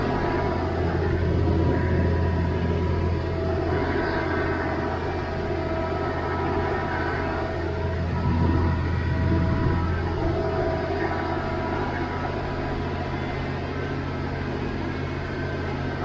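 A Massey Ferguson 1105 tractor cutting hay with a Krone 2801cv mower, its engine droning steadily and loudly throughout with low rumbling harmonics and no voices.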